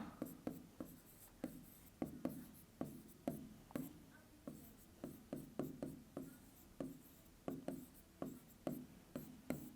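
Pen or pencil writing out a Class 9 maths solution on paper, factorising a polynomial: steady scratchy strokes with regular taps and pauses, close and fairly quiet, with no talking.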